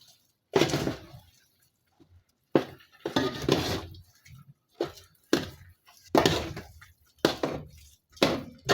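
A spoon stirs and scrapes sticky biko rice cake in a metal pot, where the rice is clinging to the bottom with some burnt crust, making loud irregular clanks and scrapes separated by short silences.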